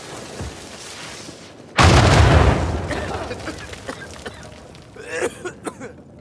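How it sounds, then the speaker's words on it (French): An explosion in the video game Uncharted 4 sets off a sudden loud boom that rumbles and fades over a few seconds. A few sharp pops follow near the end. "Au moins maintenant, on sait d'où venait l'explosion qu'on a entendue."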